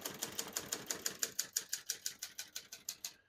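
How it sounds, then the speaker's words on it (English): Typing on a 1960 Hermes 3000 portable typewriter, about seventeen crisp, evenly spaced key strikes in a steady quick rhythm, close and clear with no talking. "We're going to keep that on single for now and finish typing."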